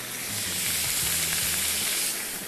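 Tomato paste with oregano fries in a hot pan with a loud, continuous close sizzle and a few soft stirring knocks, no one talking.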